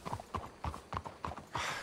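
A horse walks with steady, evenly spaced clip-clop hoofbeats in the Red Dead Redemption 2 video game, close and distinct with no talking.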